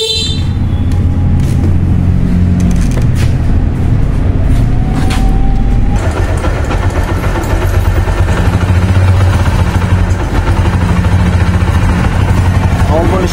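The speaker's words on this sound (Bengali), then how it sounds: "বাইকটার সাউন্ড কন্ডিশন," A used Bajaj Platina 100cc motorcycle engine runs steadily at a dealer's shop, a loud close continuous drone that lasts throughout, with brief higher tones over it.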